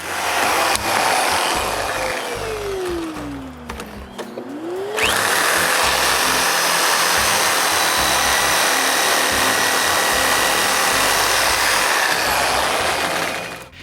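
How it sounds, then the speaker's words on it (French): Reciprocating saw finishing the cut of a wooden tenon for a workshop roof truss, loud close grinding buzz with a pitch sweep and short dip near the start, then a long steady rasping cut. "Le reste, il est fait avec le scie va-et-vient."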